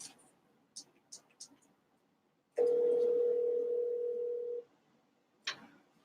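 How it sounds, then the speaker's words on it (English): Telephone dial tone, a steady single hum lasting about two seconds in a quiet room, preceded by a few faint taps and clicks as a call is placed. "So give me a chance to make this phone call real quick."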